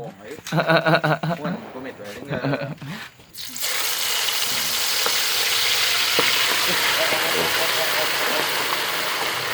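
Frog pieces frying with herbs in hot oil, a steady loud sizzle that starts abruptly after a few seconds of talk and then runs continuously to the end.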